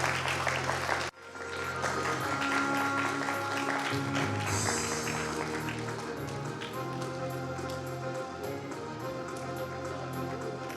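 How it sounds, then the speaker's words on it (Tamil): Congregation applauding at a New Year midnight Mass in St. Sebastian's Church, Somarasampettai: after a brief cut, dense sustained clapping from a large indoor crowd fills the space, steady and moderately loud, with a faint tonal background beneath. "கைத்தட்டி நாம் அவர்களை தெரிவித்துக் கொள்வோம்"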